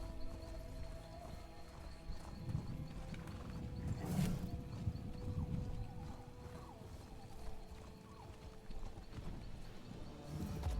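A horse mount in the video game The Elder Scrolls Online runs with continuous, fairly soft hoof clip-clops, mixed with a brief whinny and steady background game sound.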